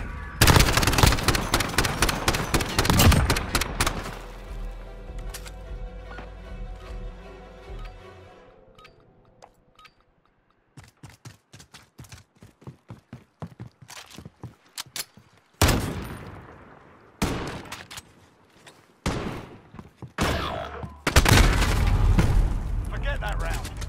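Heavy gunfire in Call of Duty Modern Warfare: dense bursts of automatic fire and booming shots, then a quieter stretch of scattered single shots before loud volleys return; close and intense, with voices talking at times.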